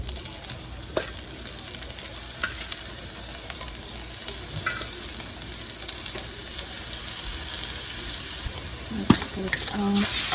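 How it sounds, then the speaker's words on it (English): Shrimp sizzle in a hot pan at a home brunch stove, a steady crackling fry with occasional clinks and stirring sounds, growing slightly louder toward the end. "So I'm going to cook the shrimp here."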